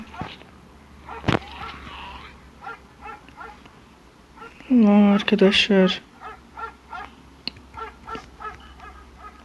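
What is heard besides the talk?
dog barking in video game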